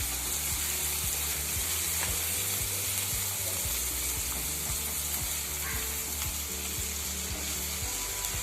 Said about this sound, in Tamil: வெங்காயம் வதங்க.